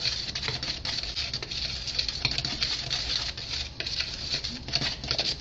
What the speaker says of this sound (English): This is a whisk. This will do a good job of mixing it all together.